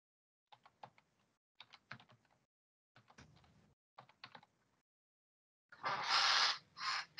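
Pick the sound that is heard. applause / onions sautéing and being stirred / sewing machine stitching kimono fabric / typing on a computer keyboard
typing on a computer keyboard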